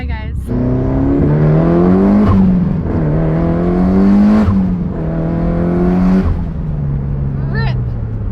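Mitsubishi Evo with a short shifter accelerating hard: the engine revs climb repeatedly through quick gear changes, loud and close from inside the car, with voices talking over it.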